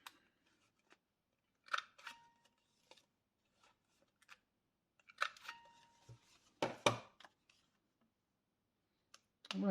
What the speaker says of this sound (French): Je vais arrondir mes coins comme je l'ai fait.